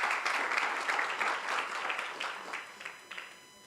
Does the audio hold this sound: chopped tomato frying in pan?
no